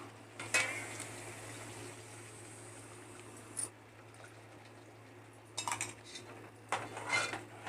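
Faint kitchen clatter while rinsing a mixer-grinder jar and clattering pots: a few brief clinks of dishes and utensils against a steady background hum, with quiet gaps between bursts.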